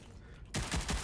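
Gunfire in the shooter game Rogue Company: after half a second of quiet, a loud burst of rapid shots erupts and keeps going to the end, close and dense.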